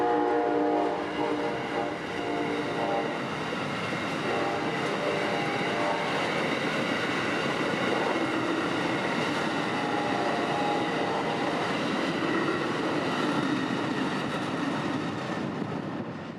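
Freight train 91 rolls past the Railroad Museum and Park in Plant City, Florida, at sundown, a loud, sustained rumble of rail cars with drawn-out horn tones layered over it, no voices.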